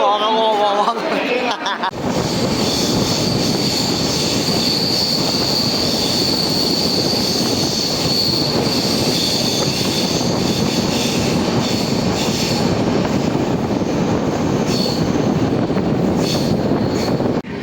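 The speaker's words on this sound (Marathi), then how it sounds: "लवकरच ट्रेन इथे येणार आहे" A train arriving at a station rumbles loudly and continuously with a steady high metallic squeal of wheels on rails, with faint crowd babble beneath.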